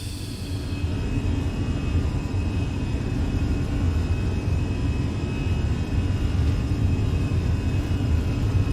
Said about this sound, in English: Engines are stable.